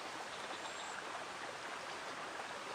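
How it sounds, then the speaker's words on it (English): Water rushes through a beaver dam that has been busted open in open water, a steady broadband roar of flowing stream water heard at a distance, constant and unbroken. "So just bust the dam open so it's making a good loud noise."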